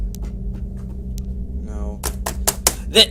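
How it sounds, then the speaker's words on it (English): Several sharp clacking strikes land in quick succession, like keys being banged, over a steady low hum, with a louder final hit. "Someone banged on my keys."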